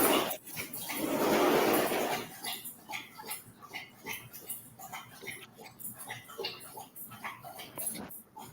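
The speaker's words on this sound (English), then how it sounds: "Sounds like a dog drinking from a bowl." A dog laps water from a bowl, a quick run of soft wet tongue clicks and slurps close by, following a brief rustle, with no talk over it.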